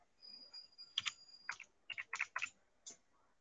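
Computer keyboard being typed on in short bursts of light clicking keystrokes, close and quiet, with a faint steady tone at the start and no talk.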